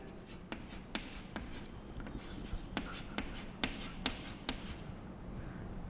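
Handwriting with a pen on paper while recording accounting journal entries: a soft continuous scratching with sharp irregular taps every half second or so, close and fairly quiet, without speech.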